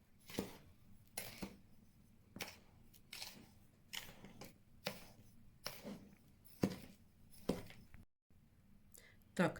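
A spoon mixes crushed cookies in a bowl, making a series of irregular clinks and scrapes, some sharp and close, with someone talking softly between them.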